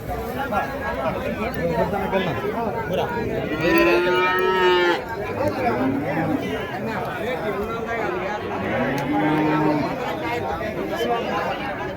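Big native bulls at the Uthangarai cattle market give a few drawn-out moos amid steady market chatter and nearby talking voices.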